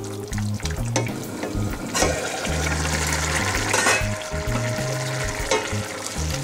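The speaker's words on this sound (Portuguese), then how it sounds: "Agora cá está a nossa arrozinho a cozer." Rice for a salt cod and turnip greens dish bubbles and simmers in a pot of water, a steady close sizzle-like boil with occasional clinks and stirring sounds throughout.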